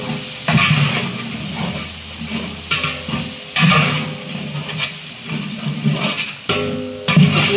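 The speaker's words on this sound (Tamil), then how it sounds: "நல்லா கிண்டி விடுறோம்." Mutton biryani masala stirred in a large sizzling pot for bucket biryani, with loud scraping strokes of a ladle repeating every second or so over a steady frying hiss and steam.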